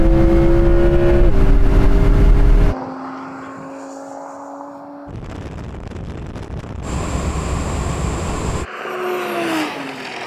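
An Audi RS6 and an Audi R8 accelerate hard in a drag race, loud engine roar with shifting tones broken into several abrupt segments, the pitch climbing as the cars pull away, with wind noise in places.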